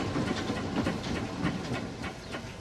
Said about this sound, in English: Just my wonderful steam engine thing.